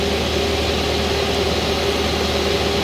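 The engine of a Marini MRP 350 remote control piling rig runs at about 1500 RPM, a steady loud mechanical drone with a constant tonal hum and no voices.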